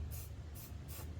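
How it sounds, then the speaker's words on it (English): Aerosol spray paint, non-automotive grade, hissing from a can onto welded rust-repair metal in three short bursts, each a soft airy hiss with a steady low background hum between them. "because I mean this is spray paint."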